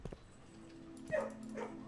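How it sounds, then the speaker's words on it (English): Dogs in the video game Blue Prince giving a few short, close barks and a yelping whimper, brief and fairly clear over a quiet background. "Wait, one dog has escaped?"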